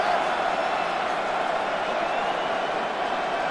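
Stadium crowd in Madden NFL 26 at a Giants–Cowboys game, roaring steadily and evenly for several seconds.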